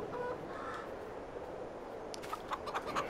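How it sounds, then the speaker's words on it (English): Chickens in the Farming Simulator game on the Elm Creek map cluck and call faintly, with a few short squawks near the end over a quiet, hissy background. "Let's go and check on the chickens."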